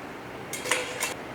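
Prepared miyeok seaweed is rinsed in a sieve during a cooking class, producing two short splashy, clattering bursts of water and mesh close by against a quiet background.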